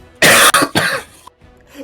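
Someone coughing into a microphone during an online game session: two or three harsh, loud bursts close to the mic, followed by quieter noise.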